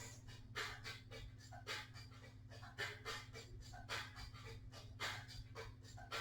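A yoga student breathes heavily while holding a lunge: steady, rhythmic panting with audible inhales and exhales repeats close by over a low constant hum, without talking.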